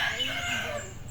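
A bird calls at a riverside campsite in Indang, Cavite, a drawn-out, strained crowing-like cry heard fairly clearly across the quiet site, with no one talking over it.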